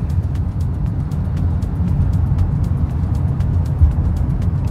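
KGM Ssangyong Torres Hybrid, a 2025 1.5 TGDi hybrid SUV, driving through busy four-lane city traffic; a low, steady cabin rumble of road and tyre noise with faint ticking, no talking.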